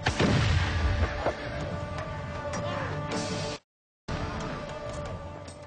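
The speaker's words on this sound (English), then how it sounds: "braced for the greatest bombardment the history of warfare had ever known" Artillery bombardment of Constantinople's walls by an Ottoman army, a dense, continuous rumble of cannon fire and booming impacts with crackling debris, loud and sustained, broken by a brief silence before resuming.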